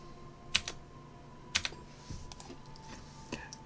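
Computer keyboard keys pressed in the Besiege building game, a few sharp separate clicks spread over a few seconds at moderate level, with faint background hum and no talk.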